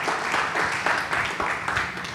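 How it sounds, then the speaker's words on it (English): Brief burst of audience applause at a startup selection day pitch event, steady, moderately loud clapping from a modest crowd. "Okay, round of applause."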